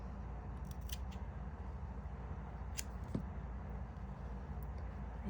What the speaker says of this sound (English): grab some scissors, and I'm gonna trim mine about right here